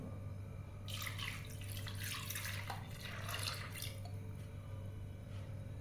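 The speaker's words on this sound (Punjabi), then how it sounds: "ਆਪਾਂ ਫਿਰ ਇਹਦੇ ਵਿੱਚ ਦੁਬਾਰਾ ਪਾਣੀ ਪਾ ਦਵਾਂਗੇ" Water splashes and pours into a pot for a few seconds, close and fairly loud, over a low steady hum.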